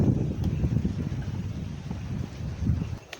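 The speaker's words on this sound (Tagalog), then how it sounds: "Kini mo hangin." Gusty wind on a mountain peak buffets the microphone in a low, rumbling roar that rises and falls, then drops off briefly near the end.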